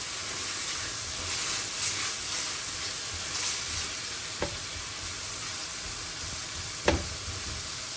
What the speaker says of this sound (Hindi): अब इसे भूनेंगे जब तक इसका कच्चापन कम ना हो जाए गार्लिक का